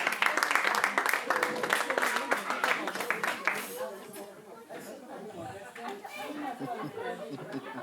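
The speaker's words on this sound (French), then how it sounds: "Bravo Sylvain, ça s'applaudit s'il vous plaît." Wedding guests in France applaud together, a dense burst of clapping with chatter for a few seconds, then fading into lively crowd talk.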